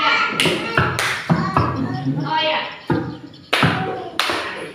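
Rhythmic hand clapping from a group playing a counting clap ice-breaker game in a classroom, sharp claps in uneven bursts with a voice talking over them.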